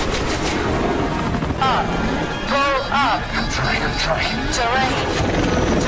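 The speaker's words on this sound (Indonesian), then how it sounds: "Ethan menjatuhkan barang bawaannya yang mengarah kepada helikopter Lark, namun tidak kena, yang membuat Ethan ketahuan dan ditembaki" An action-movie helicopter scene with gunfire, a throbbing rotor drone overlaid by rapid bursts of shots and whooshing effects, heard under a voice talking continuously.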